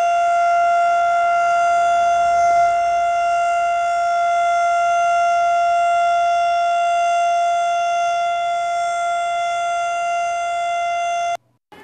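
Civil defense siren at a fire station, heard from a fixed spot: one loud, steady wailing tone holding for the whole stretch, then cutting off abruptly near the end.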